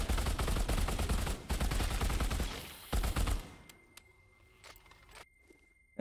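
Rapid automatic gunfire bursts from The Walking Dead: Saints and Sinners, loud dense volleys for about three seconds before cutting to quieter clicks and faint ringing tones.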